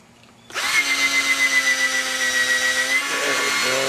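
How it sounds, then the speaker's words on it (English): A power drill whirs steadily while driving a screw into a wooden bonsai shelf. The motor starts abruptly and runs close and loud for about three seconds, then its tone changes as the screw seats. "I'm just going to re-drill it a little to the side in the more solid portion"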